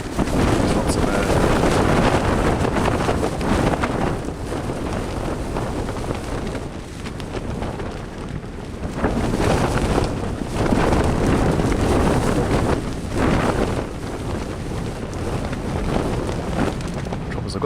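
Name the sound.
strong wind gusts against a tent at night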